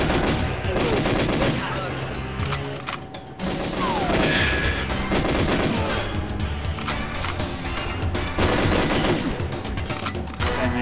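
Rapid bursts of gunfire in the video game GoldenEye 007 crackle almost continuously, with repeated volleys and heavy impacts, loud and dense throughout.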